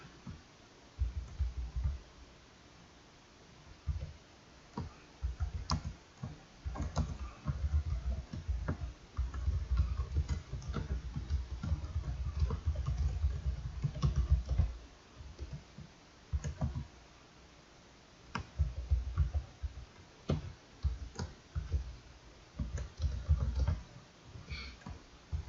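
Keys click on a computer keyboard during a Java programming class, with sparse, irregular taps and short bursts spread over about half a minute and no talking.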